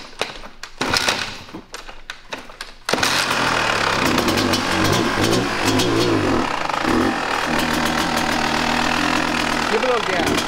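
Someone's dirt bike, a long-neglected machine, firing up on choke and settling into a loud, steady idle close by after a few seconds of sputtering, with people talking over it.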